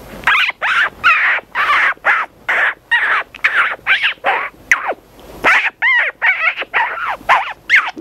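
A human voice imitates a newly born puppy whose eyes have not yet opened, producing a rapid series of short, high, nasal whining cries, loud and close, with brief gaps between them.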